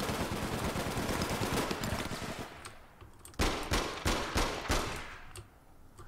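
Gunfire in the APB Reloaded video game: a dense, continuous stream of rapid shots, then a handful of separate loud bursts with short gaps between them.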